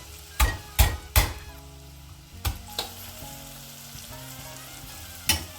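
Onion and crushed garlic frying in a pan, a low steady sizzle broken by several loud knocks and scrapes of a utensil against the pan, close and with no talking.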